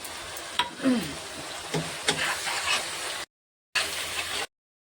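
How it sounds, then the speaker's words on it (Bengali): Onion frying in oil together with ginger paste for a mutton dish, a steady close sizzle with stirring scrapes and clatter, cutting out briefly before resuming. "পেঁয়াজটা লাল লাল করে একটু ভেজে নেব"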